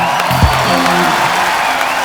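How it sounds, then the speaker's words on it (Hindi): Audience at a stage show applauding and cheering, a brief, loud wash of crowd noise with a short tonal sound near the start and a low hum beneath. "लिए जोरदार तालियां"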